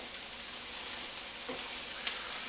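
Hot peppers fry in a pan with a steady, bright sizzle and a few faint pops and crackles, close and continuous with no talking.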